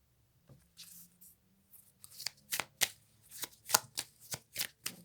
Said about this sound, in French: Alors, on tire une dernière carte.